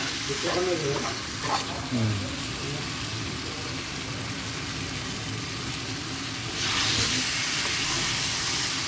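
Eggs sizzling and frying in a pan for a spicy Bangladeshi egg bhuna, a steady crackling hiss throughout with occasional stirring scrapes and a louder burst of sizzle near the end, no talking.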